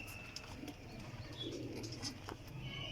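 A Teddy breed flying pigeon coos softly and low, a faint continuous murmur with a few brief chirps from nearby birds over a steady outdoor background.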